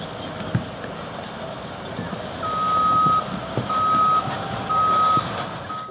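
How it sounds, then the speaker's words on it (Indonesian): A toy mining dump truck sounds three evenly spaced electronic reversing beeps, each about half a second long, clear and close over a faint hum and light handling noise. "Di sini ada mobil truk tambang."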